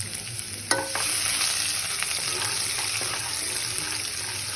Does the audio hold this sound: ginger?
yes